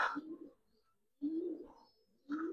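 Giribaz and coloring pigeons coo softly up close in three separate throaty calls spaced about a second apart, with quiet gaps between them.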